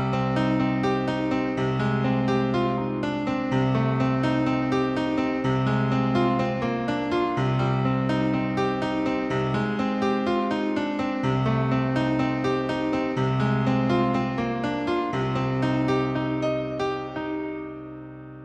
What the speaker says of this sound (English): This next patch is a piano patch